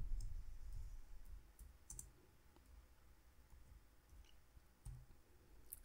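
Computer mouse clicks during website editing, a few sharp, quiet clicks spaced irregularly over a low background rumble.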